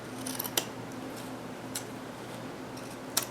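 Scissors cut into a shirt cuff for a memory quilt, giving a few sharp, close snips spaced apart over a quiet steady hum, with no talking.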